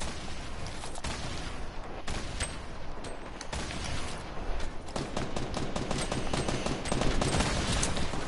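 Rapid automatic gunfire from the Fortnite video game rattles on continuously, dense bursts of shots layered over one another at a steady loud level with faint game effects underneath.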